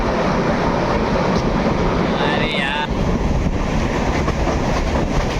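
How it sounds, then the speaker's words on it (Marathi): A Diva–Ratnagiri passenger train running at full speed makes a loud, steady roar and rumble with wind buffeting the microphone throughout, and a voice briefly calls out partway through. "गाडी फुल स्पीडला झालं आहे डायरेक्ट पनवेल"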